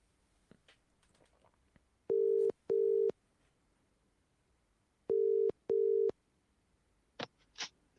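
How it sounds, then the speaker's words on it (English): Telephone line heard while dialing a caller on a live fan phone-in show: two pairs of steady, loud tone pulses sound at a regular rhythm over a quiet background, followed by a couple of faint clicks. "let's dial up the next caller"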